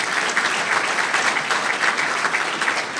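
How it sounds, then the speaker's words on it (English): A civic gathering in DuPage County breaks into steady, dense audience applause for people who delivered food to those in need. Many hands clap evenly and loudly throughout the moment, with no voices heard. "you deserve a round of applause for that"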